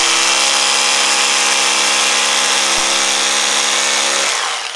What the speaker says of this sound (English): so that when we drill them into the wall,